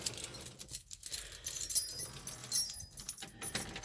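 Keys jangle and rattle as a car key goes into the ignition of a camper van, producing several soft metallic clicks and scrapes close by, with faint background noise.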